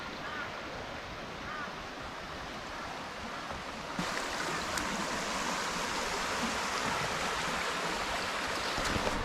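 Water rushes steadily over a creek bed running high during Cyclone Alfred in Australia, a continuous broadband wash that grows slightly louder midway.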